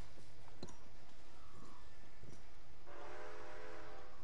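A train in Red Dead Redemption 2 rolls along with steady low rumble and clicking wheels, then a horn sounds near the end, clear and without talk.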